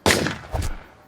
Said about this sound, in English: Suddenly, a gunshot, a body drops.